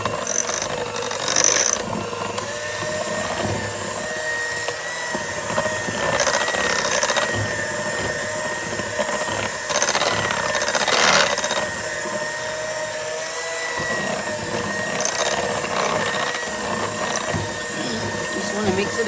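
An electric mixer beats cream cheese and butter together with a continuous whirring, grinding hum that changes slightly as the beaters work through the thick mixture. It stays steady and close for the whole stretch.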